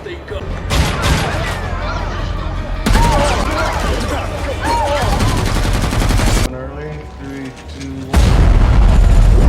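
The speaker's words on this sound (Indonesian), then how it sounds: "Alhasil mereka semua pun harus ditembaki secara membabi buta." Heavy, indiscriminate gunfire in an action film scene, with sustained automatic bursts and booming shots in several loud sections, broken by abrupt cuts.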